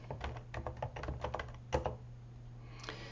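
Computer keyboard typing, a quick run of distinct keystrokes that ends in a firmer press and then falls quiet, heard close and alone.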